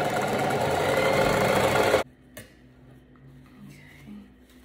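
A sewing machine stitches tutu socks in a steady, loud mechanical run for about two seconds, then stops abruptly, leaving quiet room noise with a few faint clicks.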